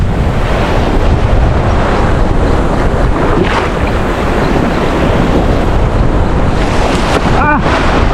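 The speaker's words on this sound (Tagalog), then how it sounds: "Malakas ang alon." Loud, constant roar of strong surf and crashing ocean waves at Sibuyan Island, Romblo, with heavy wind buffeting the microphone, no pauses throughout.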